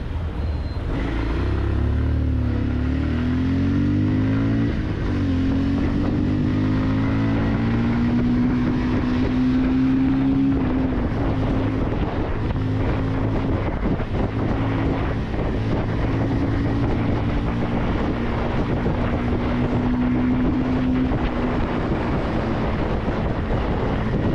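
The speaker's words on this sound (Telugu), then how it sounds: "ఆ ఎగ్జాస్ట్ నోట్ విన్నారా ఎలా ఉందో?" A 2026 Bajaj Pulsar 150 Twin Disk motorcycle is ridden, its exhaust note rising and settling as the engine revs through the gears, loud and continuous under heavy wind buffeting.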